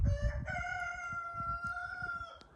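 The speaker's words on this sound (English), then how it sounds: "The rooster agrees." A rooster crows once, a long drawn-out call with a strained, wavering tone, close and clear, with faint clucking underneath.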